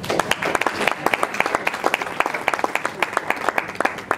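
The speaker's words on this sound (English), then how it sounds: "Please let us give her another round of applause." Applause from an audience after a speaker at a UN event, a dense, continuous patter of many hands with sharper individual claps standing out, lasting the whole stretch.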